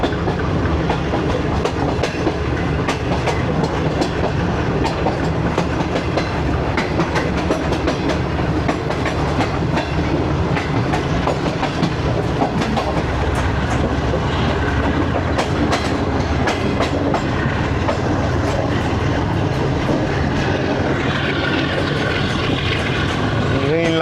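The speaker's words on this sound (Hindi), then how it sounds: "वहाँ से 2 लोकोमोटिव जा रहे हैं शेड की तरफ।" Two railway locomotives, a GU20 and an RG class, roll past heading toward the shed, giving a loud, continuous rumble with steady clickety-clack of wheels over rail joints throughout.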